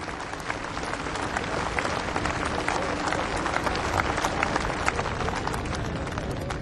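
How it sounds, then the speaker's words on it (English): A large outdoor crowd at a Korean War memorial dedication in South Dakota gives a sustained round of applause for distinguished guests, dense and steady throughout. "Let's give these distinguished guests a round of applause."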